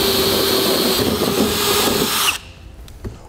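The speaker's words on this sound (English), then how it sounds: "I'll come up top here and drill them out the rest of the way, stepping up drill bit sizes until I've reached the final size." A power drill bores holes through a 2016 Chevrolet Silverado 2500 truck frame for a gooseneck trailer hitch, stepping up bit sizes, with a steady loud whine that cuts off abruptly near the end, leaving faint clatter.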